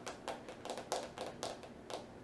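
Real fingernails tapping on a hard surface, a quiet irregular series of light clicky taps, close and faint, with no talking.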